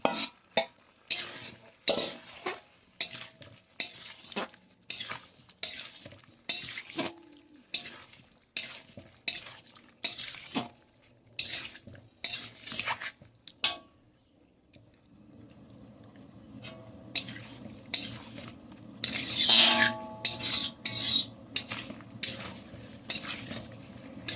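Fried potato and jackfruit are stirred into a spice masala in a pan: a long run of rhythmic scraping strokes and clatter, a brief pause, then a softer steady sizzle with a few more scrapes.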